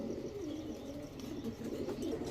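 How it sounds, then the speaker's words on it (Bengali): Racing pigeons coo in low, soft, continuous rolling murmurs nearby, with no talking. "এটা হচ্ছে 41 কিলো ব্যাক করা একটা কবুতর"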